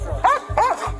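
A dog barks inside a house during a police welfare check. Two or three close, sharp barks come in quick succession, with faint background noise.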